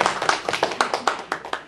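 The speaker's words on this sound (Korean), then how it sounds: "저 박수 좀 쳐줘요" A church congregation claps for the pianist during a worship service, a run of roughly a dozen fairly even, rhythmic claps close by with no talk.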